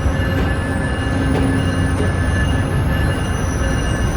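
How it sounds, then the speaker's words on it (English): Steady loud rumble inside a double-decker commuter train in Toronto, with continuous wheel-on-rail roar, faint high squeals and a few soft clicks throughout, no voices. "they have double-decker trains here, something we don't have back home at all"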